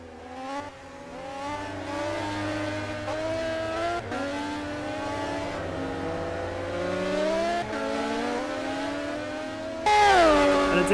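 Several racing car engines drone and whine together in the Simraceway racing game, with rising and falling revs as cars pass in a close pack, ending in a louder burst of high-pitched engine noise.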